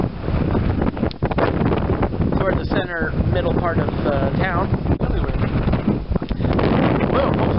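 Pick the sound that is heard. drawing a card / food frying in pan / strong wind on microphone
strong wind on microphone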